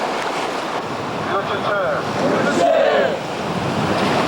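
Sea waves wash and surge steadily at a beach during marine training before dawn, with loud, continuous surf noise and some wind buffeting the microphone.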